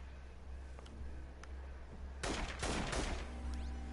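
Gunfire in the open-world action game Infamous Second Son: a dense burst of shots begins partway through, following a quieter stretch of faint ambient game sound with a few isolated sharp clicks.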